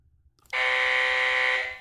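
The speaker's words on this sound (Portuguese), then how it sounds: "Esse é o som 3, 4, 5." A loud, harsh electronic buzzer from an LED multisport scoreboard sounds after a brief silence and holds steadily for over a second, close and alone.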